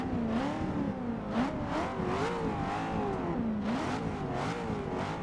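A Z06 engine in the racing game Forza Motorsport 6 burbles steadily at close range, its pitch wavering up and down with throttle blips over a continuous rumbling drone.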